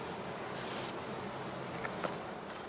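Honey bees hum in a faint, continuous buzz around heather skeps in a spring apiary, with a couple of brief louder passes close by.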